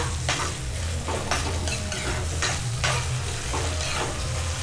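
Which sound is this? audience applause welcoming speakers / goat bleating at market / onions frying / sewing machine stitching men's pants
onions frying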